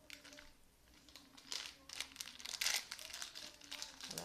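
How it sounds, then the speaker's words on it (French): A dried green tea flower is pulled from its crinkly wrapper in a series of close, sharp crackling bursts. A faint steady hum runs underneath. "Il faut extraire la fleur de son emballage."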